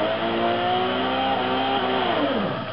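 Nissan Skyline R32 GTR V-Spec engine revving hard with wheel spin, a loud, steady, close-up roar whose pitch sweeps down near the end, alone without talk.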